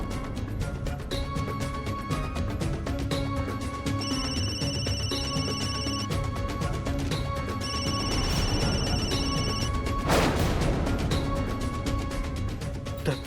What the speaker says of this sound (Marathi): भरत भाऊंचा फोन.